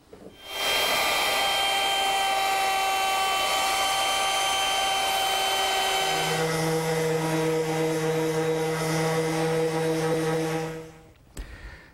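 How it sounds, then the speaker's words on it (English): A handheld router fitted with a 1/2 inch radius round-over bit, its base lowered to use only part of the bit, shapes the edges of a wooden tray. It gives a steady, loud high-pitched whine that drops in pitch under load partway through, then stops. "I'm going to use my router again, which is still set up with the 1/2 inch radius round over bit."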